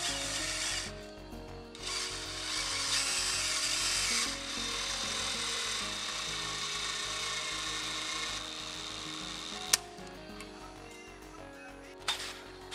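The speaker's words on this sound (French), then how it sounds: "On peut alors visser les vis de butée en dépassant tout juste le laser." Power screwdriver driving stop screws into a wooden hempcrete formwork frame, with long steady whirring runs broken by brief pauses and a couple of sharp clicks, fairly close and without talk.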